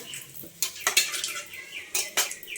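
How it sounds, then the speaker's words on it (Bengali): Bay leaf, cardamom and cinnamon stirred in hot oil in a pan, sharp metallic clinks and scrapes of a spoon against the pan in irregular bursts over a faint low sizzle, close and quiet. "ওই তেলেতেই দিয়ে দিচ্ছি তেজপাতা একটা, 1 টুকরো এলাচ আর 1 টুকরো দারচিনি। একটু নেড়ে চেড়ে"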